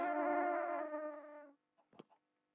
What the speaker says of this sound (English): Still with those stupid bees.